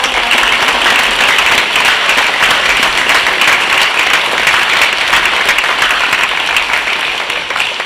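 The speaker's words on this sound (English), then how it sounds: "can we give a round of applause one more time for all of you?" Loud, sustained applause from an audience at a school birthday celebration, with steady dense clapping and no talk.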